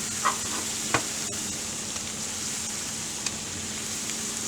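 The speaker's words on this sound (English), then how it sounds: "We'll saute that down a little bit" Food sautéing in a pan, a steady moderate sizzle with a few faint scattered utensil taps, alone with no one talking.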